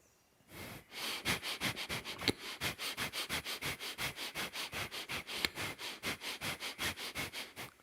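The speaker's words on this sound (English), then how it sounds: "Taking in more prana like this, sniffing the prana when I need to, using Bhastrika." Rapid rhythmic nasal sniffing breaths of Bhastrika pranayama, about two dozen sharp, evenly spaced inhalations and exhalations in a quick steady pulse, close and clear with no talking.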